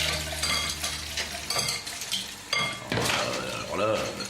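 Dishes clink and clatter as new dishes are handled for washing by hand, busy close-up rattling and knocking of crockery with scattered sharper chinks.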